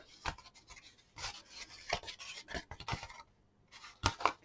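Scissors cutting a paper craft piece for a pop-up matchbox, with a series of crisp, close snips at an uneven pace and short pauses between them, quiet and with no talking.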